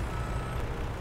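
A farm vehicle in Farming Simulator 17 backs up with a steady reversing beep. The beep sounds close and clear over a low engine rumble, with no talk.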